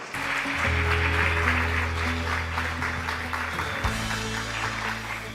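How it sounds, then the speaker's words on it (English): Audience applause welcoming a speaker at the Seoul International Forum on Climate and Environment, a steady wash of clapping across the hall, with sustained low musical tones running underneath throughout. "Please welcome him with a big round of applause."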